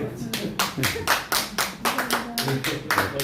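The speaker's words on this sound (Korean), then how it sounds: "감사합니다. 박수." Congregation clapping at a Korean church worship service, distinct rhythmic claps in a steady beat from a smaller group, close and clear, with voices faintly underneath.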